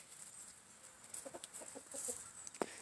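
A rooster clucks in a short run of soft, quick calls, fairly faint against a steady outdoor background.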